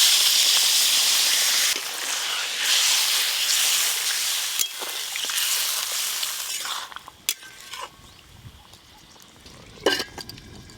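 Water poured into a pan of hot spiced potatoes for potato curry sets off a loud, bright hiss that fades into softer steaming, with a few clinks of utensils near the end.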